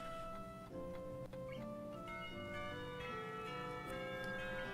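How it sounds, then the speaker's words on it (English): A school bell chime signals the end of the lunch break in the Katawa Shoujo visual novel, a quiet run of ringing tones stepping from one pitch to the next, each ringing on and overlapping the last. "It isn't long before the bells are signaling the end of the break."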